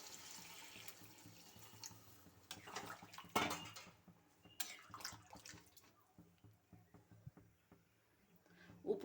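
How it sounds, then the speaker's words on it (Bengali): Warm water goes into a cooking pan holding a Bengali potol, potato and prawn curry. Faint, intermittent splashing and trickling mixes with soft clinks of the pan in a quiet kitchen. "এবার দিয়ে দেব পরিমাণ মতো জল"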